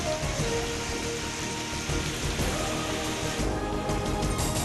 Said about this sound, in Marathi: मुंबईमध्ये पावसाच्या हलक्या सरी